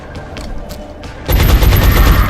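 Gunfire in the X-Com video game, a loud dense volley that erupts suddenly partway through and keeps rattling to the end, preceded by quieter scattered pops and a low hum.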